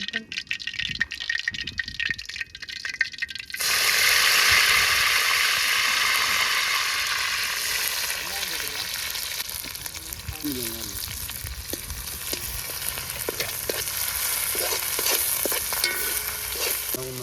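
Onions, tomatoes, mint, curry leaves and green chillies hit hot oil in a village cooking pan and burst into a loud sizzle that keeps frying steadily, with stirring clatter and brief talk.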